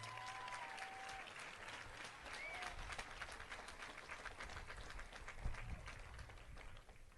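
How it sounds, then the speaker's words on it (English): A graduation audience applauding the high school music ensemble after the processional, a steady, fairly distant wash of many clapping hands in a large hall, with faint whistles and low rumble underneath. "a round of applause for all of them as well"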